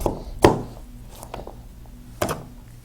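A few sharp knife chops on a board, two strong thuds with softer taps between, close by and otherwise quiet.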